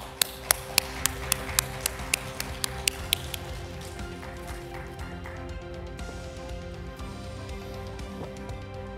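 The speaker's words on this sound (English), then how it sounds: "Let's give him applause of hand." A science summit audience applauds a mathematics speaker with a handful of crisp, separate claps in a steady beat that thin out and fade into the hall's hum.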